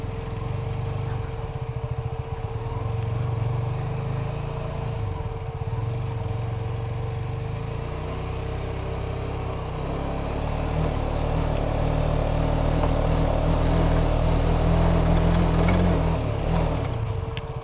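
A heavy motorcycle rides along a jungle road, its engine a close, continuous drone that holds steady and grows slightly louder partway through.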